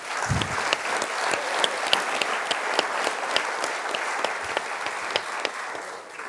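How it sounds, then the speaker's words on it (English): An audience applauds the event staff at a library gathering, with a full, sustained round of clapping that holds steady at a fairly loud level and carries a few sharper individual claps before easing slightly at the end. "So please help me giving them a round of applause."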